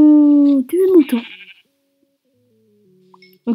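A sheep in the Minecraft video game lets out a short wavering bleat, preceded by a brief spoken word. Some quiet game sounds follow, then speech resumes at the end.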